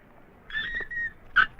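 A puppy gives high, thin whimpers, a drawn-out whine followed by a short sharper yelp, close and fairly clear against a quiet background.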